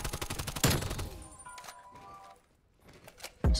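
Rapid automatic gunfire in the shooter game Black Ops Cold War, bursts of closely spaced shots at the start, a sharp loud crack, then a lull before another sharp shot at the end.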